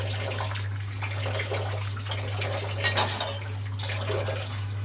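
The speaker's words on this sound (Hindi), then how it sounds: "अब हम कप में डाल लेंगे।" Pathani kahwa tea, a spiced green tea, pours into a cup with a continuous trickling liquid sound over a low steady hum, with no talking.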